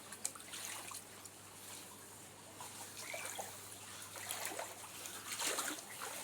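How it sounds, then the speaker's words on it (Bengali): Flood water seeping into rooms at dawn, a faint trickling and dribbling flow with occasional small splashes under a low steady hum, distant and quiet, no talk. "রুমের ভিতরে পানি ঢুকছে"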